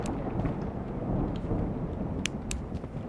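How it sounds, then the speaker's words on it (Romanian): Thunder rumbles low and steady outside while rain hisses throughout, with a couple of faint sharp crackles, and no talk. "Tunete de afară."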